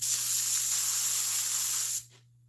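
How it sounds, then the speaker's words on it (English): A continuous hissing spray from an aerosol can onto an auto interior seat repair piece, loud and close, held steadily for about two seconds before stopping abruptly. "So I think I'm gonna go and spray that."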